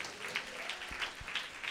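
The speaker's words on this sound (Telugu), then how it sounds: "చప్పట్ల కొట్టి గట్టిగా చెప్పండి" Congregation at a Christmas worship service clapping together in a steady, dense burst of applause, fairly loud and filling the room throughout.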